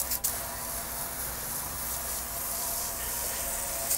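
Spray adhesive hisses from a can onto an arcade cabinet side during side art installation, one continuous close broadband spray lasting a few seconds with a brief break near the start.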